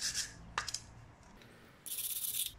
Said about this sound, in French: on va bien nettoyer ici les coulisseaux à la brosse métallique.